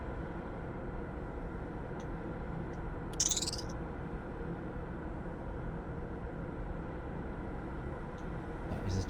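A single short, high-pitched chirp from the video game Myst, in the Selenitic age, rings out over a low, quiet background hum, with a fainter chirp near the end.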